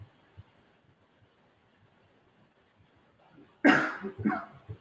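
A couple of sharp, close coughs burst out near the end after a long stretch of near silence.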